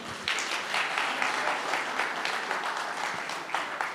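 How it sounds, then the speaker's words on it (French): Scattered applause rises from an audience at a talk on compas music's influences in the 1970s, a moderate burst of clapping with uneven sharp claps standing out, lasting about four seconds. "Et je vous demande pour applaudir"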